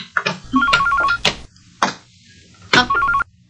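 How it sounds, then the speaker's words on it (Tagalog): A telephone rings in a home, with several bursts of a trilling electronic bell separated by short pauses, loud and close, with no talking over it. "Ma, ang telepono."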